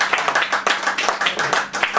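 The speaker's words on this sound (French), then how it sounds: "vraiment un tonnerre d'applaudissements pour lui" A live audience at a celebration applauds in a brisk run of dense, close hand claps for two seconds, with no talk over it.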